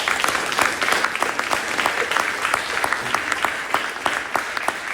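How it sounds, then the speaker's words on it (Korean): An audience at a Korean political campaign wrap-up event breaks into sustained applause, dense and even crowd clapping that holds steady from start to finish. "우리 장애인 위원장님한테도 큰 박수를"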